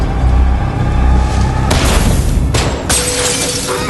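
In an action scene from The Equalizer 2, gunshots fired at a car tire land as sharp, loud cracks about a second apart, over a heavy rumbling score and engine-like background.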